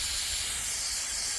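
Aerosol cleaner sprays in one continuous close hiss onto a Holden Commodore engine part, steady and uninterrupted for the whole moment.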